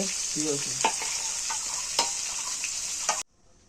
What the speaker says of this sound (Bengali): এভাবে সবগুলো আস্তে আস্তে ভেজে নেবে তিন পিস মাছ একটু কড়া ভেজে